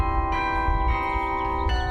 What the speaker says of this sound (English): So a carillon is a keyboard instrument, and it plays bells.